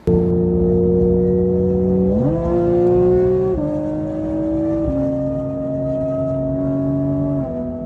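A Porsche 991 GT3 RS engine with full race headers holds a loud, raspy drone, then steps up in revs and settles, the exhaust note rich and steady throughout.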